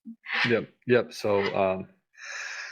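A single sneeze bursts out after a stretch of conversational speech in a podcast interview, sharp and fairly close.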